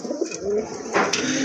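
Pigeons at a bird sale, a pair offered for purchase, give soft low coos in short murmurs against steady background noise, with a sharper burst partway through and no talk.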